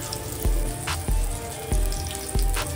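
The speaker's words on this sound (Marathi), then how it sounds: "शॅलो फ्राय करायचं आहे. हे पहा, आता आपण हा मस्तपैकी फ्राय करूया." Chicken seekh kabab rolls shallow frying in a pan, with a steady background sizzle and repeated soft low thumps about every half second, close and fairly loud, no voices.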